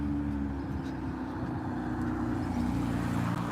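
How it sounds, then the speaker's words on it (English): Low rumbling engine of a silver car approaching and passing, a steady continuous drone heard alone at moderate distance. "There's an engine sound right now. I think it's this car is coming."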